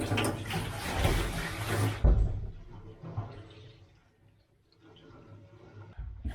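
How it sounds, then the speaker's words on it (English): Water is poured down a drain during plumbing work, a loud rushing splash for about two seconds that fades into faint trickling and gurgling, with a few knocks, close and alone. "What are the chances if I pour water down that it will leak?"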